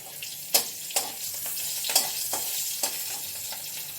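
Pumpkin pieces sizzle in hot oil with bay leaf and cumin, a steady frying hiss broken by sharp, regular clacks of stirring, close up and with no talking.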